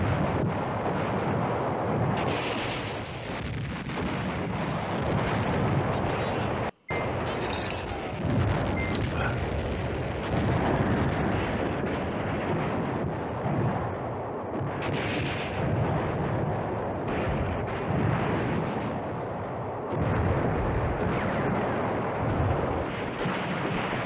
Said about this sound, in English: I actually want to do this airstrike on this guy